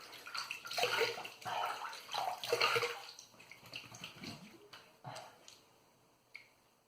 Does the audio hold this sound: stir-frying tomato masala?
no